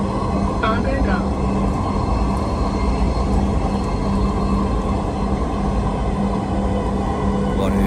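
Dhaka metro train running between stations from Uttara toward Agargaon, a steady loud rumble and rail roar inside the carriage with a constant tonal hum, sustained evenly throughout.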